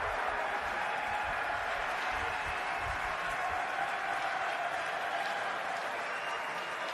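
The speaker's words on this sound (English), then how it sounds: "a nice round of applause for the Hall of Famer" A large audience at the 2017 NFL Draft applauds steadily for Hall of Famer Jim Brown, a dense, even wash of clapping from a distant crowd that holds for the whole stretch.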